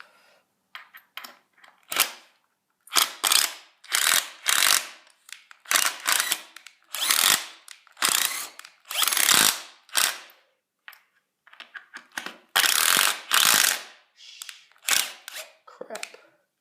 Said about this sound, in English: so when I screw these down, it will really hold it down.